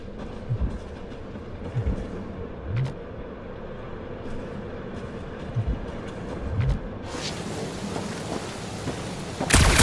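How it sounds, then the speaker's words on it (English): Heavy rain roars steadily through a video game thunderstorm, with low rumbles of thunder rolling underneath and a louder crack toward the end. "Perhaps the storm will have abated."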